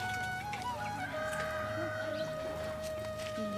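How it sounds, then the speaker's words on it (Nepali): Chickens cluck and chirp faintly in a rural setting, with short murmuring calls scattered over a steady low background hum and some faint voices. "कुखुराहरू पनि कता कता आएको नि"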